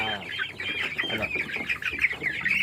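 A flock of chickens clucks continuously, mixed with high peeping chicks, a busy overlapping chatter close at hand.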